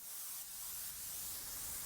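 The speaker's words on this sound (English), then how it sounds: "which is again just white noise with some EQ and shimmer on it" Steady, bright hiss of filtered white noise with a shimmering, airy top, continuous and fairly soft throughout, no voices.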